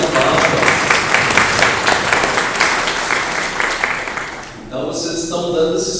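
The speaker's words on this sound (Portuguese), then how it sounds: "Uma salva de palmas." Steady applause from a church congregation fills the space for several seconds, then thins out as it ends.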